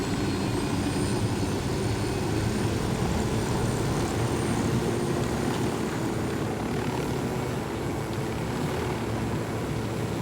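Aircraft engine drone from an airplane flying in the open-world military shooter Ghost Recon Wildlands, a steady, loud, continuous propeller-like roar that holds for about ten seconds with no talk.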